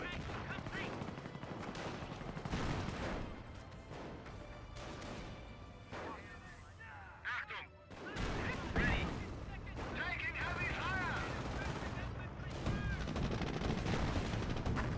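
Battle in the World War II strategy game Company of Heroes with a 17-pounder gun and a Panzer IV, dense bursts of gunfire and heavy tank and artillery shots, near and loud, with a sharp impact around the middle.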